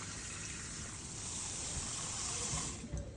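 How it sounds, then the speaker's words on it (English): Tap water running steadily into a pot to boil eggs, a continuous close gushing hiss that fills and rises slightly in level toward the end. "First we'll put our water in there."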